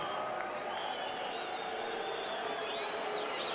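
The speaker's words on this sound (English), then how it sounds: "a round of applause for Anne-Marie Boscovich" A crowd at a boxing event between Julio Cesar Chavez and Ivan Robinson applauds and cheers for the national anthem singer, a dense, steady roar of clapping and whoops with no pauses.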